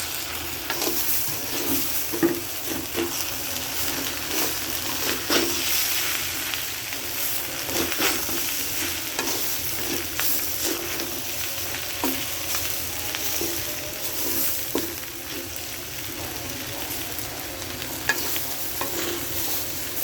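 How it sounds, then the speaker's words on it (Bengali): Rice and ground ginger fry in a pot with steady close sizzling, broken by repeated scraping strokes of a stirring spoon, with no voices. "আদাটুকু দিয়ে ভালো করে আরেকটু ভেজে নেব।"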